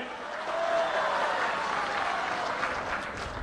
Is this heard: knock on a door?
no